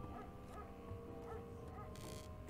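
A dog barking outside on a winter day, heard faintly through the walls as distant yips under steady room noise and a hum.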